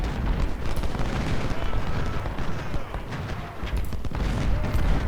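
Artillery and rifle fire from a Civil War battle in the strategy game Ultimate General: Civil War rumble on continuously, dense overlapping booms and crackling volleys forming a loud, unbroken wall of battle noise.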